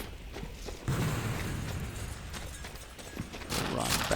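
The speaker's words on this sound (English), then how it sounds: "pop the gas can so that anybody within like a quarter mile hears it" A gas can explodes in the Sniper Elite 4 video game: a sudden loud burst about a second in, followed by several seconds of sustained rumbling noise and scattered pops, amid in-game ambience.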